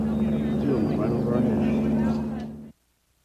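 Steady, heavy engine drone with a low rotor-like hum from two helicopters overhead, voices mixed in, cutting off abruptly near the end.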